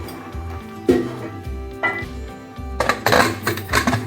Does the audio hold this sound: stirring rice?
yes